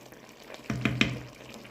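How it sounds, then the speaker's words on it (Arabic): A spoon stirs tomato stew seasoned with sweet spice and cinnamon in a pot, making two or three quick, soft scraping knocks over a faint background. "نحركهم"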